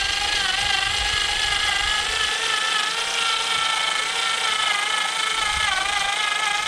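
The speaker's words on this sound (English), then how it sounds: "You hear a lot of noise because it's geared out. So look at the screwdriver." A geared screwdriver drives a screw into the wheel section of an E-flite Draco RC airplane, giving a loud, continuous whirring whine that holds steady throughout without speech.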